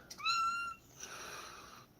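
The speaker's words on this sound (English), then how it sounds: "Mentally ill cat here, bro" A house cat gives one clear, fairly close meow, followed by a fainter drawn-out second cry in a quiet room.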